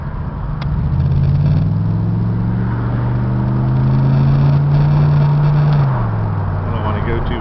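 Engine hum and road noise of a black Cadillac Eldorado Touring Coupe cruising at modest speed on side roads, a steady loud low drone with slight rises in pitch, heard from inside the car.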